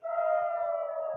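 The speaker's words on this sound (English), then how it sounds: "Sirens wailing, with Israeli cities now on high alert." Air raid siren wailing over an Israeli city under rocket attack, a single steady, sustained tone held loud and unbroken from start to finish with no voices over it.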